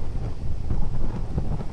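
Strong wind buffets the microphone in a steady low roar, rising and falling slightly with gusts, with no voices.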